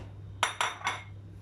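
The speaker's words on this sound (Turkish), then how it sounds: "Patatesleri döküyorum." Potatoes tipped into an oiled oven tray in a home kitchen, three short clattering impacts in quick succession at close range, followed by quiet, with a steady low hum underneath.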